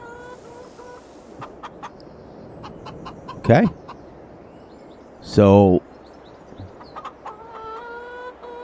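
Chickens clucking in a farm pen in Farming Simulator 22, a flock of around 130 birds, giving scattered short clucks and two louder, longer squawking calls over low background noise, with someone talking briefly.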